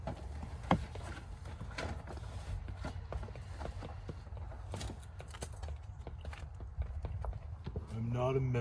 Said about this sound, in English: Horse, you be quiet.